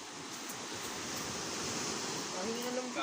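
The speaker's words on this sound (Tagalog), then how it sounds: "ang lakas ng alon." Strong ocean waves roar as a steady, dense wash of surf, close and continuous, with a faint voice briefly audible underneath near the end.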